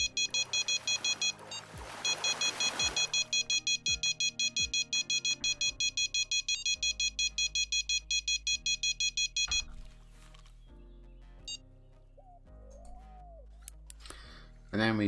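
Electronic fishing rod bite alarms in the game Fishing Planet beep in a fast, steady run of high tones through most of the stretch, then stop, leaving sparse game sounds and a few later chirps.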